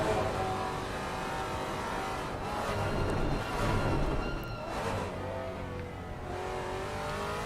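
In the game Assetto Corsa Competizione, a Maserati GT4 race car laps Brands Hatch with a sustained engine howl. The revs rise and fall through gear changes and corners, with brief tire noise, heard continuously from the cockpit.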